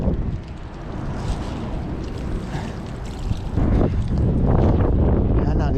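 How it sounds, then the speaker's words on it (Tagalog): Wind roars steadily across a microphone on a fishing boat out at sea, a loud broadband rush that swells louder near the end, with people talking underneath. "pasensya na po kung maingay po yung ating video. Gawa nga lang medyo mahangin po ngayong araw."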